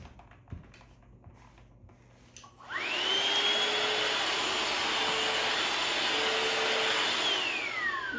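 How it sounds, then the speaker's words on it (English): A Shark VacMop cordless vacuum mop switches on after a quiet moment and runs steadily on a floor with peanuts, a loud, even motor whine with an airy suction roar that holds for several seconds and dips slightly near the end. "You can also hear the volume of it. I feel like it's like a normal vacuum. It has really good suction."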